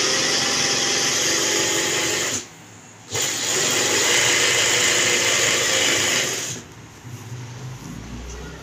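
A sewing machine stitches shirt fabric with a loud, steady mechanical whir that stops briefly, resumes, then drops to a softer hum near the end, with no talking.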